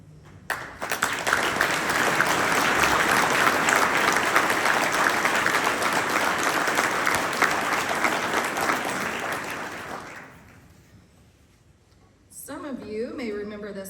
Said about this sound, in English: would you please stand so we can thank you with our applause?